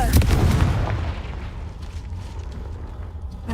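Confringo blasting spell in the video game Hogwarts Legacy: a loud, close explosive burst with crackling impacts, then a rumbling tail that fades away over several seconds.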